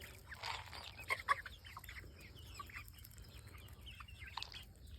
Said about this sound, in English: Pretty happy chickens right there.